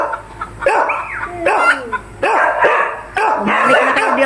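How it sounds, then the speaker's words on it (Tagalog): A dog barks loudly and close at a neighbor's chickens that flew over the fence, in repeated yelping bursts with whimpering tones between them. "Ayan, binabantayan sila ng aso tuloy."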